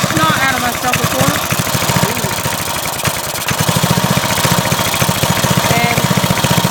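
A 1990 Briggs engine on a lawn edger runs close and loud, a steady rapid throbbing idle with an even mechanical rattle that holds throughout.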